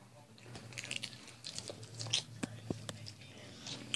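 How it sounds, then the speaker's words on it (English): Close, crisp crunching and chewing of hard rock candy, with irregular snaps and crackles over a few seconds and soft background voices murmuring underneath. "Kaden, don't crunch them. Just suck on them"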